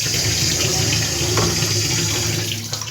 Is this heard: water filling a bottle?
yes